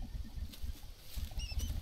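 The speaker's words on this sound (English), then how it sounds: "I literally just got the fire back on and it's raining again." Rain patters steadily in the jungle survival game Green Hell, a dense low rumble of drops with faint crackling on top, no voices.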